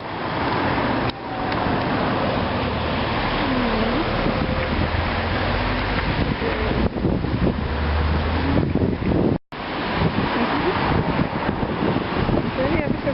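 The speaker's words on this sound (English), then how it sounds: "A bit windy though." Strong wind buffets the microphone outdoors on a town's main road in Ireland, a continuous loud roar with gusty surges and a brief dropout near the end, traffic faintly mixed underneath.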